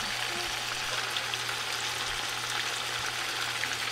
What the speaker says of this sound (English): He gonna go ahead and sear these, take them out, put them on napkin, and sear the second batch